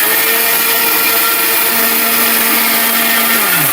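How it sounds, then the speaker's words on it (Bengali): A Niyama 1200-watt mixer grinder running at full speed, a loud, steady motor whir and grind with a sustained hum that holds throughout, no talk over it. "বাজারে সেরা ব্লেন্ডার বলে কথা ভাই"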